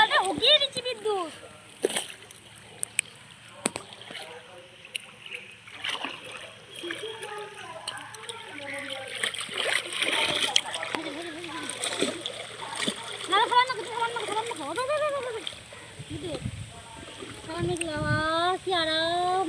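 Pond water splashes and sloshes as clothes are washed by hand. Repeated splashes of varying strength sound close by, mixed with frequent talking.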